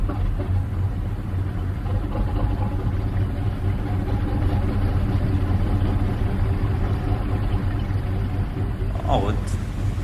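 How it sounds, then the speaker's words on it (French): A boat engine runs steadily at a low, even drone on a fishing trip out to sea, holding constant throughout with faint background voices. "on démarre le moteur et..."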